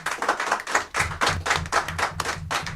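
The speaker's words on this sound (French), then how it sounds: "qu'on peut également applaudir" Studio audience applauding guests at the end of a geek culture TV show, with a small group clapping in a loose, uneven rhythm close by and individual claps clearly distinct.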